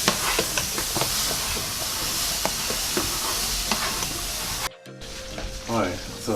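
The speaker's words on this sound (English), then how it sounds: "So all you gotta do is just add our grits to the pot. And stir while you're adding the grits in." Grits being stirred into a pot of boiling seasoned water, a steady bubbling hiss with scraping spoon strokes close by, a brief drop to near silence, then soft stirring resumes.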